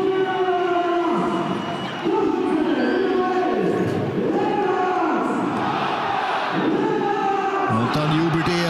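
Football stadium crowd at a LASK Linz versus Red Bull Salzburg Austrian Bundesliga match roaring and chanting after a goal, a loud, dense wall of cheering with rising and falling swells throughout.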